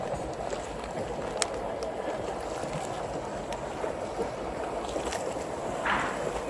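Gondola gliding along the Grand Canal in Venice, Italy: a steady wash of water and wind fills the scene, with faint scattered ambient noises and no clear voices.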